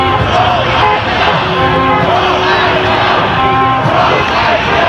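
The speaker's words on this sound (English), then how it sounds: "the crowd's getting vocal" Loud, steady roar of a vocal protest crowd of Iranian demonstrators supporting Reza Pahlavi outside a US consulate, with overlapping shouts, chanting and cheering filling the whole stretch.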